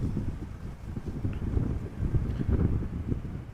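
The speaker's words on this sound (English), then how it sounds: "the wind is picking up a little bit" Wind gusting across an open outdoor spot at Amsterdam Schiphol Airport, a steady low rumbling buffet against the microphone that swells and eases throughout, with no voices.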